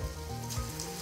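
Small cabbage pakoda balls hiss and sizzle in hot oil in a pan, a steady close crackle with soft bubbling and no voices.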